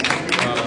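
A brief, dense burst of audience applause at a French-language talk on electricity made from plants, steady and fairly loud throughout with no pauses.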